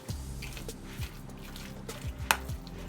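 A spoon stirs chicken salad with walnuts and cranberries in a bowl, giving quiet, wet squishing and soft scraping strokes at a fairly close distance, with one sharper clink near the end.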